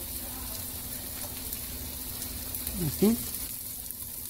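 Carrot, celery and broccoli stems sizzle in hot oil in a pot for Chinese-style fried rice, a steady low frying hiss throughout with a brief word spoken near the end.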